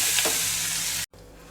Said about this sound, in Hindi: अब इसे हम हिला देंगे और प्याज को हम 2 मिनट तक मीडियम फ्लेम पे इसे हम थोड़ा सा पकाएंगे